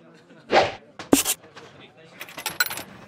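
Coins drop and clink in the Nancy Drew game Ghost of Thornton Hall, with a few short metallic jangles and scrapes spaced across the moment, fairly close and clear, along with a soft thud and some quiet background noise.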